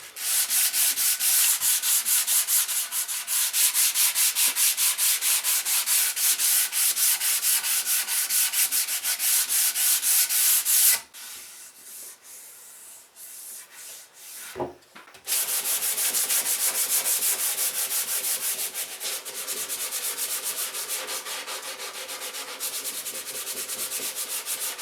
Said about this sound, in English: that's the sanding pretty much done